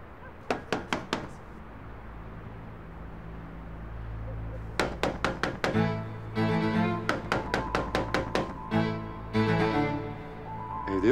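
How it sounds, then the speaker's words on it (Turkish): Knuckles rap on a house door in several quick bursts of sharp knocks, close and distinct, with a low background hum and what sounds like a doorbell tone in the later part. "Çal kapıyı."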